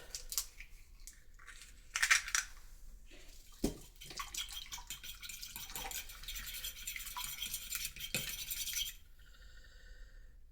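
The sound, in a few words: mixing egg batter in bowl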